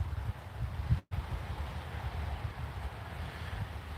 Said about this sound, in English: the wind's blowing the wrong direction here